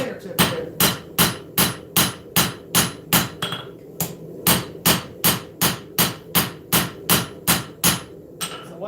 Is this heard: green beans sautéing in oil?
no